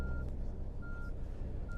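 Reversing beeps from a coach in Fernbus Coach Simulator, three steady electronic tones repeating at an even pace over a low engine rumble.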